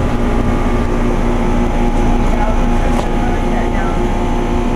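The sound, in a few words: Trane XL15i heat pump running in heat mode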